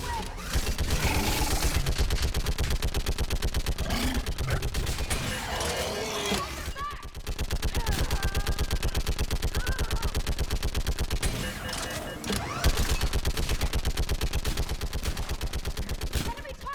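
Rapid, dense bursts of automatic gunfire in the Mass Effect 3 video game fire almost continuously with short pauses, loud and close, while voices talk over the shooting.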